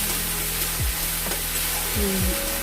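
Banana flower curry fries in a pan, a dense steady sizzle with a few stirring scrapes and low background hum, short and close-up with no speech.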